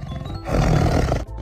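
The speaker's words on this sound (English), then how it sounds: "Tiger." A single loud, rough tiger roar comes from a zoo animal toy, lasting about a second on its own and ending abruptly.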